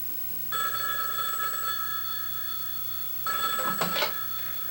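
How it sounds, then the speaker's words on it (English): A telephone rings with a bright electronic trill in two separate bursts, the second slightly louder. A steady low hum runs underneath and no one speaks. "3 hours later, she received a phone call."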